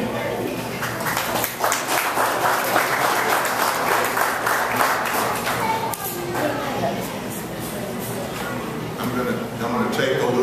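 A steady, moderately loud audience applause fills a press conference held by the New Orleans VooDoo football team for its new head coach, with a few voices mixed in throughout.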